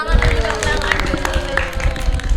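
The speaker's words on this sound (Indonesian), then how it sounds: "Tepuk tangan" A podcast audience claps in a dense, continuous patter, with a voice talking over the applause.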